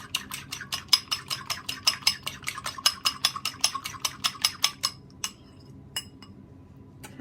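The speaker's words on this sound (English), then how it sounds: "Then you need to beat it in so that the egg is mixed in quite well." An egg is beaten into cherry biscuit mixture in a bowl. A utensil strikes the bowl in a fast, steady run of about twenty bright clinks, then a few slower, scattered taps. The sound is close and clear, with no voices.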